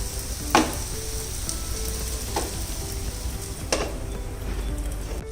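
A vegetable pancake fries in ghee under a lid, giving a steady muffled sizzle with a few faint clinks, close and continuous with no talking.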